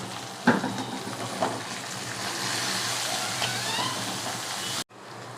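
Onions with salt and curry leaves sauté in a pan for Tamil egg gravy, giving a steady close sizzle broken by a couple of stirring knocks before it cuts off abruptly.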